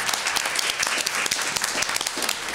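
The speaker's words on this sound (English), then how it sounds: "I thought that we need to give Mr. Johnson a round of applause" An audience at a school board of education meeting gives a round of applause, a dense, continuous burst of many hands clapping at moderate volume with no voices.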